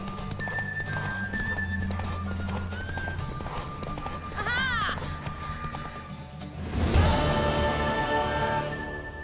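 Horse hooves clatter steadily over a background of music in The Witcher 3, with a sharp whinny partway through and a louder burst of sound near the end.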